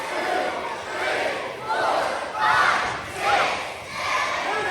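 A wrestling crowd at a heavyweight bout chanting in unison, loud rhythmic swells of voices rising and falling in repeated waves throughout.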